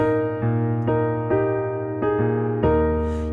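A piano plays a song with sustained chords and a low bass line, changing chord roughly every half second. It is loud and clear, with no voices.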